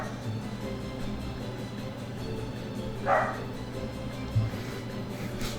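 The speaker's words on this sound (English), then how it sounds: "I apologize for the barking dog" A dog indoors lets out a single short bark partway through, somewhat distant, over a steady low room hum, followed by a faint brief knock.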